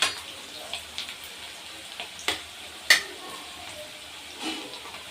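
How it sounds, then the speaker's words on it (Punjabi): Onions fry to golden in a pan for radish bhurji, making a steady medium-level sizzle close by. Periodic spatula scrapes and knocks come every second or so, with no one speaking. "ਪਿਆਜ਼ ਸਾਡੇ ਲਾਲ ਮਤਲਬ 골ਡਨ ਜੇ ਹੋ ਗਏ"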